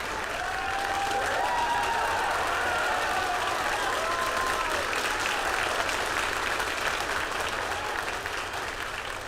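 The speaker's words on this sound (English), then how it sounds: "As you can probably tell from that applause" Sustained applause and cheering fill a mission control room after stage separation of a Rocket Lab Electron rocket, steady and dense throughout, with faint voices underneath.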